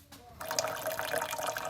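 Tap water running steadily into a sink over a photographic paper print being rinsed, a sudden gush starting after a brief quiet moment and continuing as a close, even splashing flow.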